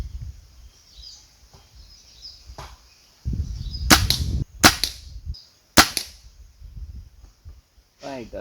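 An NX200 Athena nitro piston air rifle fires three sharp, close shots in quick succession at a 30-yard target, each a crisp crack with a short tail, amid light outdoor background noise.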